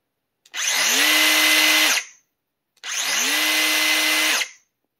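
Two separate bursts from a DeWalt cordless cut-off tool, each a loud, steady high-pitched whine of about one and a half seconds that spins up quickly and winds down, with a short pause between them.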